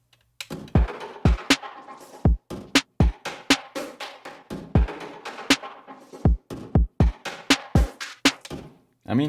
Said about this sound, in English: And with all the effects, sounds like this